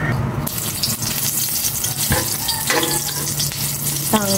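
Cooking oil sizzles in a pan with a steady frying hiss, overlaid by occasional clinks and scraping of a utensil stirring, loud and close without any talk.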